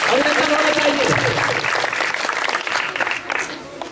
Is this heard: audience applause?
yes